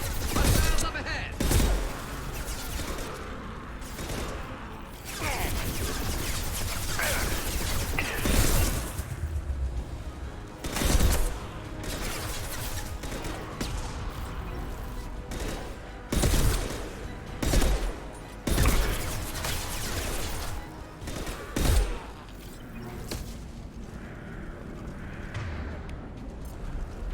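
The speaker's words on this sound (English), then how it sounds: "Missiles up ahead!" Missiles and gunfire from the video game Mass Effect 2 come in repeated loud bursts and blasts over a dense, noisy battle bed. Voices are heard in places amid the fighting.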